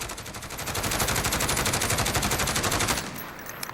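A SIG 556 PDW fired in Call of Duty Modern Warfare without recoil control: a loud, unbroken burst of rapid automatic gunfire for about three seconds, then it stops abruptly and leaves quiet game ambience.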